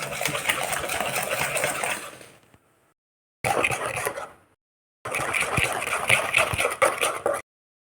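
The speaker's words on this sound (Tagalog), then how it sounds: "Bit lang natin hanggang maging smooth yung butter." An electric hand mixer beats butter until smooth for an apple cake, whirring steadily in three bursts separated by short silences, fairly close with no talking.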